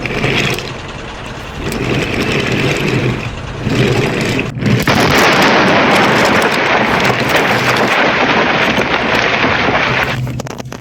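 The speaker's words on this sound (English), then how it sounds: "Both engines smashed into each other with their trains, thundering at an enormous speed." Two engines with trains collide head-on at enormous speed in a Sudrian railway tale, a loud sustained roaring rumble with a sharp break near the middle before the noisy crash continues loud to the end.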